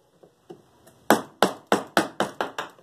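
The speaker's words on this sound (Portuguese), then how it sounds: "o estilete marca já exatamente onde a gente vai tirar" A utility knife scores wood to mark out a recessed handle, heard as a series of sharp close taps, light at first then about seven louder evenly spaced strikes, with no talk.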